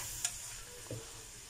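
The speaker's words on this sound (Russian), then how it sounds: "Поставила уже жарить свеклу," Soft, steady sizzling of beetroot frying in a pan, with a couple of faint clinks from stirring; quiet and close, no voices.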